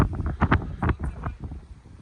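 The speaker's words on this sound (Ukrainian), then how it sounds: "Чуєте вітер?" Gusty wind buffets the microphone in uneven rumbling bursts, rising and falling over a couple of seconds outdoors on a rooftop at sunset.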